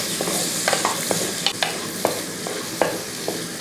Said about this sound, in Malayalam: ഇനി ഒന്നുകൂടെ ഇളക്കി കൊടുത്ത്